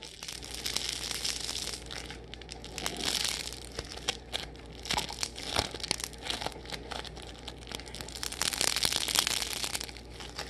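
Crackle foam ball squeezed and crinkled up close, giving a dense, continuous run of sharp crackling and crunching that swells and eases in loudness, with no voices.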